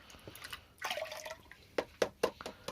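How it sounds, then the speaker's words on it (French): A plastic cup is rinsed in a bucket of water, giving faint sloshing followed by a few short, distinct splashes and drips at close range. "On va rincer le gobelet."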